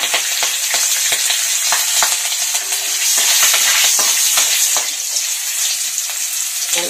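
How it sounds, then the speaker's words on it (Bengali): Green chili and nigella seeds spluttering in hot oil left over from frying eggplant, a steady loud broadband sizzle with scattered crackles and pops throughout, no voices. "এখন ওই তেলের মধ্যে একটা কাঁচা লঙ্কা আর কালো জিরে অল্প ফোড়ন দিয়ে"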